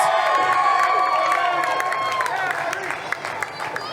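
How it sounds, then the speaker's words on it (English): A crowd at a professional wrestling event claps and cheers loudly, with whistles and scattered shouts rising over the applause before it gradually thins out. "So Kari Wright, he heard a little bit of applause he was getting from the addicts"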